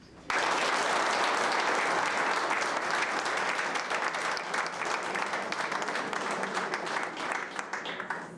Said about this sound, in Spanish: Para todos ellos, por favor, fuertes aplausos